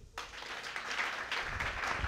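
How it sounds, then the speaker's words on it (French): Studio audience applause on a Burkina Faso television business programme, a dense, steady wash of clapping that starts abruptly and holds at an even, fairly loud level throughout. "Applaudissements"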